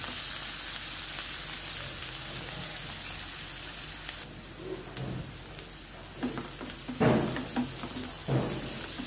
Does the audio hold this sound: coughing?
no